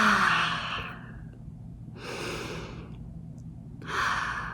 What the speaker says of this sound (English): And a deep breath.